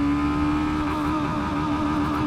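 A Brixton Crossfire 500 motorcycle engine, a 2020 A2-licence bike, revving hard under acceleration, a loud, steady, sustained drone with a strong whining tone and no talk over it.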